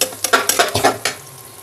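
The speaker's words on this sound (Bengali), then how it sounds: "হলুদটা দিয়ে একটু হালকা নেড়ে নেব।" Browned onions with turmeric are stirred in a hot pan, giving a quick series of close scraping, sizzling strokes in an uneven rhythm that tapers off after about a second.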